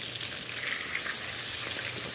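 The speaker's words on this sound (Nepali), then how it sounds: "यहाँ माछा फ्राई गर्दैछु।" Fish frying in a pan gives a steady, close sizzle and crackle of hot oil that holds evenly across the short stretch with no talk.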